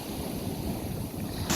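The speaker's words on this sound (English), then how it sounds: "Christ, some of these waves are huge." Large ocean waves breaking on a Cabo San Lucas beach, a continuous rushing wash of surf blended with wind buffeting the microphone, with a louder gust at the end.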